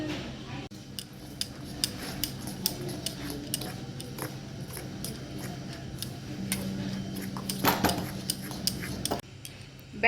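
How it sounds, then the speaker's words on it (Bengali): A spoon stirring semolina and curd batter in a bowl, giving a steady run of small ticking taps and soft scrapes against the bowl, fairly faint and close, with a brief louder clatter near the end. "এটাকে ভালোভাবে নাড়িয়ে নেব"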